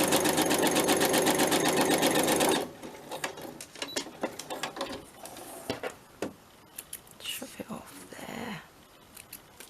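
A sewing machine runs fast and loud for about two and a half seconds, stitching down the side of fabric pieces for a birthday craft project, then stops, leaving quieter handling clicks and rustles.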